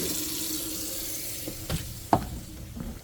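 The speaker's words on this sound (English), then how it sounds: "I'm gonna have to drain this gray tank like right away because it's running a ton of water into it." Water runs steadily from a tap into a box van's gray tank with a continuous hiss, and a few close knocks and clunks are scattered over the flow.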